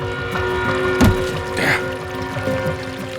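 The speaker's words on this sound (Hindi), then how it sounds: "पानी की आवाज।" Water pours in a couple of short splashing bursts against a steady background hum, close by.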